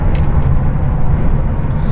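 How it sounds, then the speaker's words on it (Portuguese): A motor vehicle runs steadily along a road nearby, its engine a continuous low rumble that holds at an even level for the whole stretch, with no voices. "é uma máquina aí transitando na pista"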